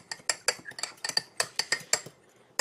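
Eggs and a little milk are whisked briskly in a bowl, with a quick run of crisp, rhythmic utensil clicks against the dish, close and clear.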